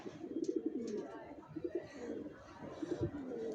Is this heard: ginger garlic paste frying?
no